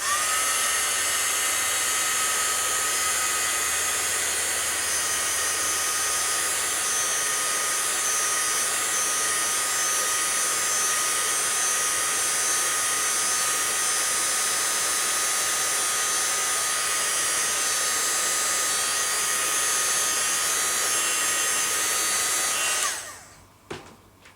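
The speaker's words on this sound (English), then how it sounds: "just going to use my dryer for a sec" A hair dryer blows steadily at close range, a loud constant whirring roar that runs for a long stretch before switching off abruptly.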